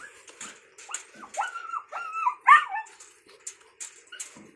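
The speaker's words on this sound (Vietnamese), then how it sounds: "con kia một mình nó sủa" A Malinois dog barks and yelps in a kennel setting, a run of high, whiny, excited barks and whimpers in close succession, mid-distance and fairly loud, with no talking.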